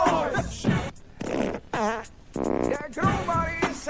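A run of several fart noises, each a short buzzy blast with a few pauses between them, loud and close in a French comedy sketch.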